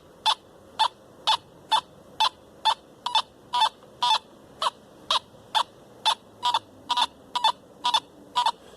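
A Teknetics metal detector gives a signal tone over a quarter coin lying right at the surface, sounding as a fast, regular series of sharp electronic beeps that repeat steadily and loudly, close by, with no talk.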